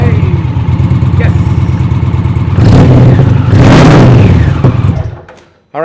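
An Indian motorcycle fitted with a Power Commander VI tuner cranks, catches and revs up loudly in two strong surges up close, then the engine cuts out abruptly; a voice exclaims briefly.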